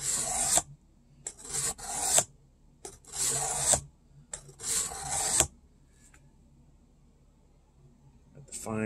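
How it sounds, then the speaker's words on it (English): A knife edge stroked across a cheap Harbor Freight sharpening stone, giving several loud raspy scraping passes in a steady back-and-forth rhythm, close up, followed by a quieter pause. "This is just a cheap Harbor Freight sharpening stone,"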